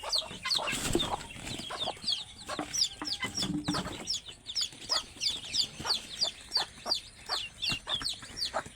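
Desi hens cluck steadily while many young chicks keep up rapid, high-pitched cheeping, the peeps coming in a fast, regular patter close by; a few heavier clucks and louder bursts stand out early on.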